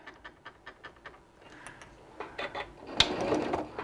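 A sewing machine stitches a seam in fabric scraps in quick, even mechanical ticks that pause briefly and then resume, ending with a sharp clack; quiet and close with no voices.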